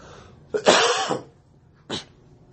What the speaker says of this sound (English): Been holding that cough in for about 24 minutes.